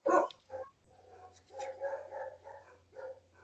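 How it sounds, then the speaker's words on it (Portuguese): A dog barks several times through an online meeting call, a sharp loud first bark followed by quieter, irregular barks over a steady low electrical hum. "Tem um cachorro latindo aí"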